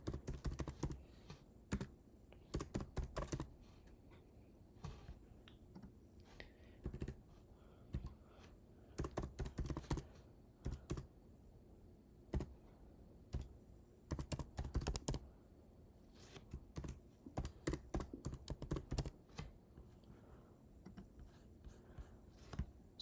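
Typing a Python command on a computer keyboard: quiet, close key clatter in irregular bursts of quick taps separated by short silences, alone without talk.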